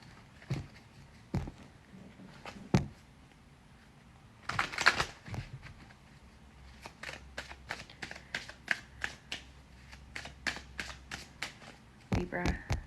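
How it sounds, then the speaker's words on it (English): Tarot cards are shuffled in quiet, separate bursts of soft riffling and tapping, close and faint, with pauses between them and a quick run of light taps toward the end. "I'm going to shuffle these again."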